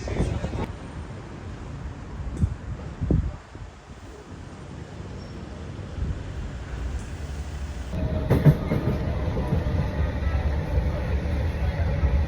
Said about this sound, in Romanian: Am luat metrou și cu metrou am venit până la aeroport.